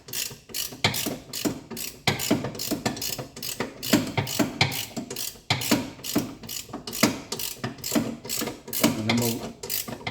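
A gearbox jack is ratcheted up beneath the rear suspension of a Vauxhall Insignia, producing a steady run of close, crisp mechanical clicks in quick rhythmic bursts, with a brief spoken phrase at the start.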